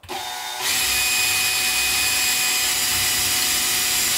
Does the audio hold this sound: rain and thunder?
no